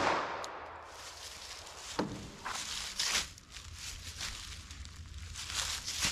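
A single .45 ACP pistol shot fired into a medium density fiberboard and denim target, one sharp broadband crack around two seconds in, heard outdoors amid steady background rustle and no voices.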